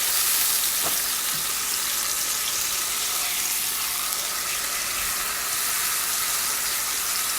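Steak searing in a hot pan, a loud continuous sizzle and crackle of fat held steady throughout, with a couple of brief tong or utensil knocks near the start.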